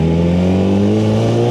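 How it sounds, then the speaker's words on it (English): Drag racing car engine at a Pro Alcohol nationals meet at Willowbank Raceway, screaming loud and close at a steady pitch as it sits hard on the rev limiter, dense with harmonics, no voices. "he fucking nailed the limiter"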